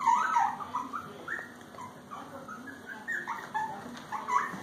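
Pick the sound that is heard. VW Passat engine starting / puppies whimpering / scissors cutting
puppies whimpering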